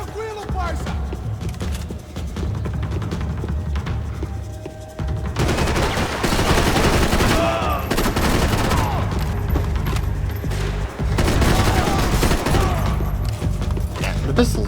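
Pistol gunfire in Max Payne 3 crackles as repeated sharp shots amid a chaotic firefight, growing denser and louder partway through, with voices talking underneath.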